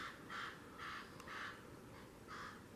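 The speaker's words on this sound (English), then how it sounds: "That's either a really big crow, something weird's going on." A crow caws four times in a steady, evenly spaced series outdoors near a creek, each call harsh and mid-distance over a soft background hiss.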